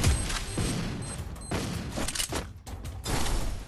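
Grenade blasts and bursts of gunfire fill a ranked-match shooter video game, dense and loud throughout with deep booms and rattling shots layered over one another.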